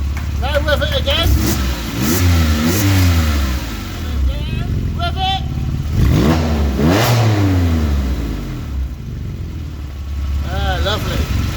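A Porsche 911 997 with a Valvetronic exhaust in its open mode revs repeatedly, each sharp rise and fall of engine pitch close and loud, with brief idling between the blips and someone talking over it.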